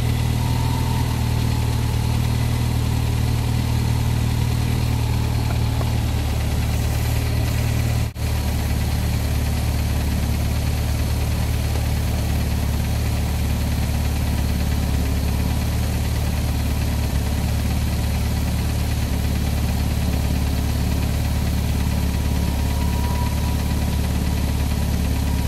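An AMC Jeep Renault engine idles in a loud, steady drone with an even low rumble that runs unbroken for the whole stretch, with one brief click partway through.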